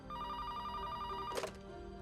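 A telephone rings steadily at moderate volume, its tonal bell sound continuous throughout, with a brief sharper clatter or click partway through.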